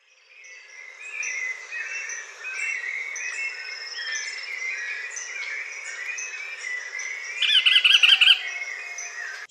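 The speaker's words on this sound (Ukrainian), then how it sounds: "Спів пташечок та шум природи." Several birds chirp and trill in overlapping song in a quiet forest, with one bird's rapid, louder call rising near the end.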